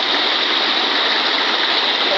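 Water from a leaking pipe during village water-line repair pours and splashes in a steady, loud broadband rush, continuous throughout with no pauses or voices.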